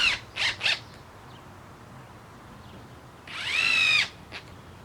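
A power drill drives screws through rubber into a wood deck panel, with two short whirring bursts, then a pause and a longer rising and falling whine that ends abruptly.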